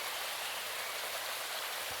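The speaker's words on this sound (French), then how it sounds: "L'eau cristalline cascade sur les pierres géantes et en bout de course forme un petit lac." Clear river water cascading over giant stones and running into a small lake, heard as a steady, dense, close rushing wash with no voices.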